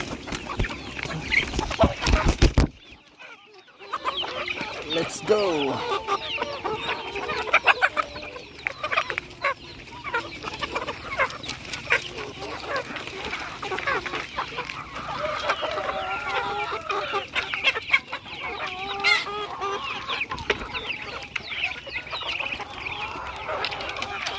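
Chickens cluck and chatter nonstop, many birds close by, with brief louder squawks and a short quiet gap early on.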